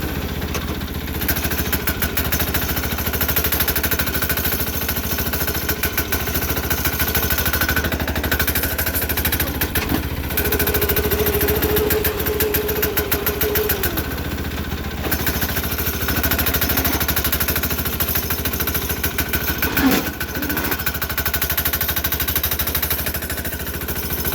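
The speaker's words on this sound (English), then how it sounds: "I'm just playing right now, breaking in the engine slowly." A Sears Suburban 6HP diesel engine runs steadily while being broken in on a snow plow build, a loud continuous rattling chug that holds throughout with slight dips, no talking.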